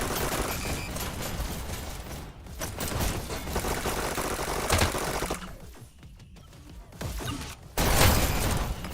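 Rapid, rattling SMG gunfire from a video game match, with sustained automatic bursts broken by short pauses and a final loud burst, dense, mechanical and continuous.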